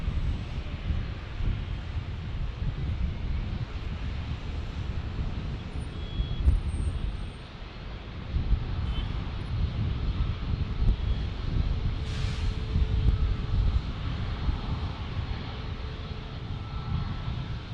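A Bombardier Global business jet takes off from a busy single-runway airport in San Diego, its steady low engine roar rising slightly toward the end, with wind buffeting the microphone throughout.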